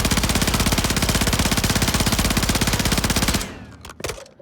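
A BP-50 rifle in Warzone fires one long, loud, rapid automatic stream of evenly spaced shots for over three seconds, then cuts off, followed by a few faint clicks and handling sounds.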